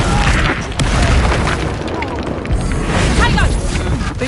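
A Confringo spell explodes in Hogwarts Legacy with a loud booming blast and rumbling debris amid chaotic combat noise, close and sustained, with voices speaking over the action.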